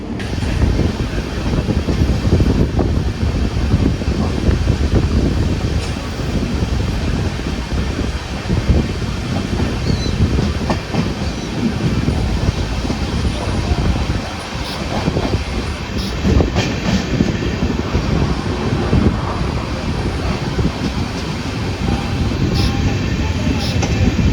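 Kozhikode Jan Shatabdi LHB express running on rails, heard from inside the coach as a loud, steady rumble of wheels and rattling carriage with faint rhythmic clacks throughout.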